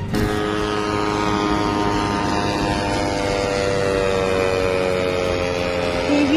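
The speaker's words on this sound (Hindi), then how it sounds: "ड्रोन летит." A drone flies overhead with a loud, steady propeller buzz and engine whine that hold for several seconds, its pitch drifting slightly as it passes, with no talk over it.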